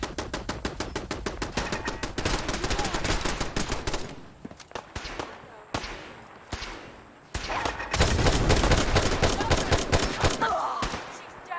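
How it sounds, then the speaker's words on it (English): Rapid automatic gunfire in the Fallout 4 video game, loud and close, with dense bursts of shots, brief pauses of scattered single shots, and then another sustained volley. "Am I shooting at Curie? Oh, hell. I've been shooting at Curie."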